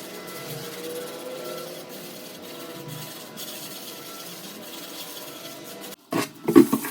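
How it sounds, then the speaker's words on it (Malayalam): Half a lemon rubbed firmly over a salted wooden cutting board, a steady close rasping scrub that runs on for several seconds, followed by a few louder knocks and handling clatters at the end. "ഒരു നാരങ്ങേൻ്റെ പകുതി എടുത്തിട്ട് അതിൻ്റെ നീര് ഇതുപോലെ ഇങ്ങനെ ആക്കിയിട്ട് നന്നായിട്ട് അങ്ങ് ഉരച്ചു കൊടുക്കണം"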